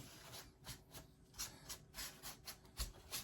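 Soft tissue rubbing and wiping residue off a painted Hunchback of Notre Dame model figure, a quick series of faint, close scrubbing strokes in an irregular rhythm, with no talking.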